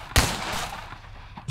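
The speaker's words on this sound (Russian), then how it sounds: "Давайте первый шот сделаю так хотя бы, хоть кого-то начать убивать" A single loud gunshot rings out close by in the gangster video game Empire of Sin, followed by a fading echo and a second blast starting at the very end.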